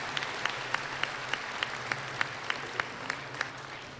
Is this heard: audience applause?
yes